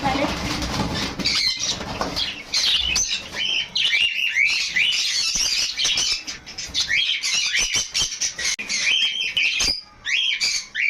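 Pineapple conure parrots chirp and squawk close by in a dense, busy stream of sharp calls with some wing flutters, lasting throughout.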